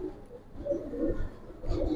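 Silver Pankhi military pigeons give soft, low cooing phrases in short bursts, close by and moderately loud, with no voices over them.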